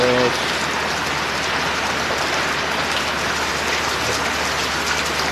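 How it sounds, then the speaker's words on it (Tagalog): Heavy rain pours down in a dense, constant roar of hissing drops, steady and close throughout. "Lakas ang ulan."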